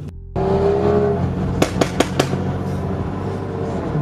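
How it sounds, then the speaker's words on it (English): A car idles with a rumbling exhaust at Auto Club Speedway during a BMW track day event, giving four quick, sharp pops in a row before settling back into a steady drone. "You guys can probably hear Shane's car popping"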